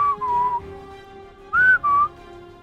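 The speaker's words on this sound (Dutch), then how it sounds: "Hij moet wel komen, er wordt gefluit." Whistling inside a Minecraft roleplay game, a few clear melodic tonal whistles, two longer notes early then a louder pair of rising-falling whistles, heard alone with no talk.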